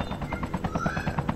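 Rapid bursts of automatic gunfire in the Call of Duty Mobile video game, a steady rattling run of shots at moderate distance with no talk over it.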